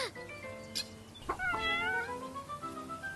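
A farm cat meows several times in a children's story sound effect, with clear, close, rising and falling calls spread across a few seconds.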